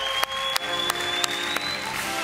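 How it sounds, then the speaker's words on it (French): A TV game show audience applauds for a record-setting contestant, a steady wash of clapping with a few sharper bursts, loud and alone. "Et on peut l'applaudir."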